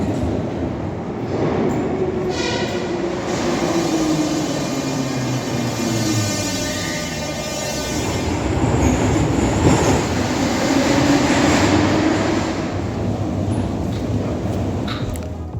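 A Yerevan metro train running underground, with a steady loud rumble, rising and falling wheel squeal and rail clatter that carry on for the whole stretch.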